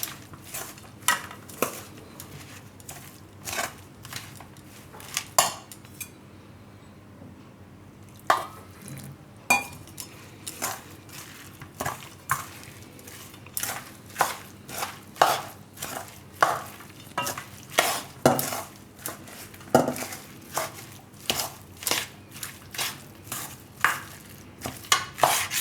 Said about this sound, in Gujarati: તો આમાં આપણે હવે થોડું થોડું પાણી નાખતા જાઉં ને મિક્સ કરી લેવું.